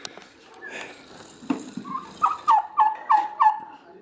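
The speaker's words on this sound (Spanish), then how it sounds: "Atención al tamaño del pavo real este." A large peacock gives a series of loud, honking calls, about five evenly spaced cries in quick succession after some quieter rustling and ambient sound, close by.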